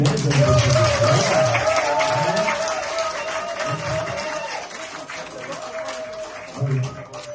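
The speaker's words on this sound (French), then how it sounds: "Les applaudissements typiques." Studio applause on a televised political talk show, a steady wash of clapping with voices and a tonal hum running through it, thinning slightly toward the end before a brief swell.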